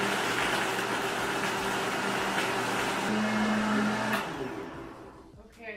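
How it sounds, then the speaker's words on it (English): A kitchen blender whirs steadily at full speed, blending cashews with two cups of water, then cuts off and spins down near the end. "Let's blend that up."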